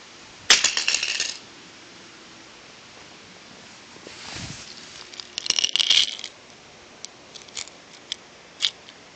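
White plastic remote control dropped onto a hard surface, landing on its corner with a sharp clatter, followed later by a rattling tumble and a few small scattered taps.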